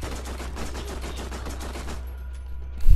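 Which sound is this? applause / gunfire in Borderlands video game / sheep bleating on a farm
gunfire in Borderlands video game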